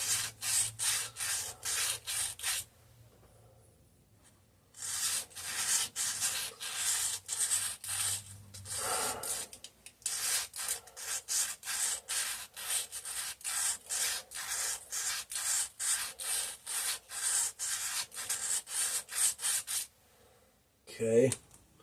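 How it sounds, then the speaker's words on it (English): Hand sanding of the contact points on an antique McCulloch generator recovered from a flooded basement: steady rapid rubbing strokes close up, in two long runs separated by a short pause, with no talking. "I'm going to do a little sanding on the points where it makes contact"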